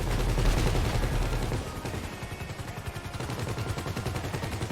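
Gunfire in the GTA Online video game during a chaotic helicopter fight, dense rapid bursts of automatic shots rattling continuously at close range.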